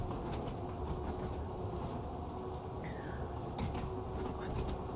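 Ex-tube Class 483 train running on rails in Train Sim World 2, a steady rolling rumble with faint clicks and squeals over the track, continuous and close throughout.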